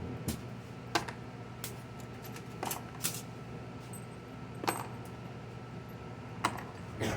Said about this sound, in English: get a box out and start putting all these screws in them so I don't lose them